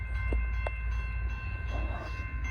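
A freight train rolls past with a constant heavy low rumble and rail noise, and a few short clanks stand out over it, with no voices.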